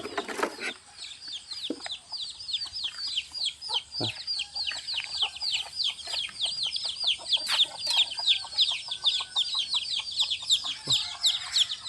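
Chickens cluck and chirp in a rural village yard in the early morning, with a steady stream of repeated calls close by and some sharp knocks and rustles among them.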